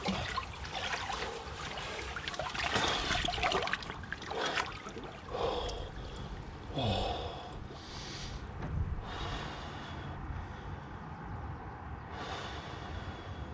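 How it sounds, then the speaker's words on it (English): A person lowers into a 10-degree ice bath, with water sloshing and splashing in bursts over a few seconds, then settling into quieter trickles and occasional small splashes. "Now we're gonna get straight in the ice bath."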